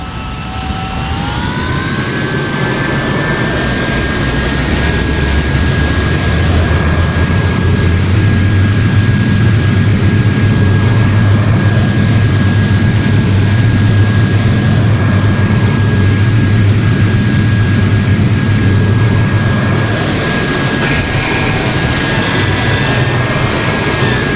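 A de Havilland Goblin 3 centrifugal turbojet on a DH.100 Vampire runs up in Flight Simulator X. It gives a loud, steady roar with a high whine that rises early and then holds, heard alone throughout.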